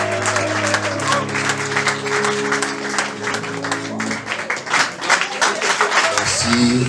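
A church congregation at a Full Gospel service in Togo applauds the Lord, with loud, sustained clapping blended with steady music tones and crowd voices throughout.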